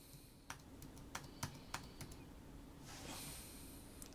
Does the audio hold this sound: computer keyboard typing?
yes